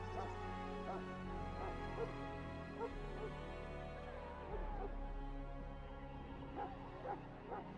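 A Mabari war hound from the fantasy game Dragon Age: Origins barks and yips repeatedly in short bursts, fairly faint, over a sustained low musical drone.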